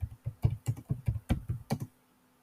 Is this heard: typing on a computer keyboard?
yes